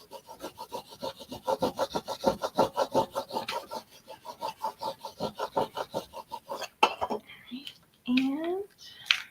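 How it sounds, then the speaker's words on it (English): Steady rhythmic rubbing as the back of a Cricut holographic vinyl design is burnished, close and even strokes, followed by a crinkle of the sheet and a few soft vocal sounds at the end. "Burnishing the back now."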